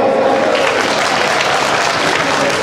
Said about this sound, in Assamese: এই আয়োজক কমিটিৰ কাৰণে সকলোৱে এটা হাত চাপৰি দিব লাগে